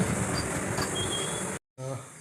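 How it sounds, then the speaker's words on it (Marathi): A Vande Bharat train from Mumbai CSMT to Madgaon stands at a station platform, with a steady rushing hiss and rumble, a few faint squeals and a brief cut before the ambience returns. "वंदे भारत ट्रेन."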